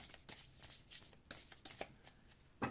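Oracle cards being shuffled and drawn by hand during a reading: soft riffling bursts and papery flicks recur across the stretch, ending in a sharper slap as a final card is pulled, close and fairly quiet with no voices.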